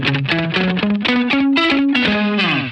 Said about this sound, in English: if I want a bit of a slapback sound